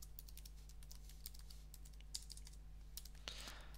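Keys clatter on a computer keyboard in a quiet room, a run of quick, light, close taps with brief pauses, a steady low hum beneath.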